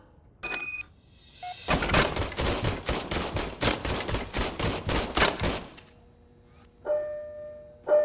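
RoboCop's service weapon fires a rapid, sustained burst of gunshots in the RoboCop video game, loud and evenly spaced for about four seconds. Short electronic beeps and tones come before and after the burst.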